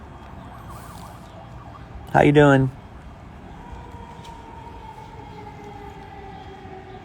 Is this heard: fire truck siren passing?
yes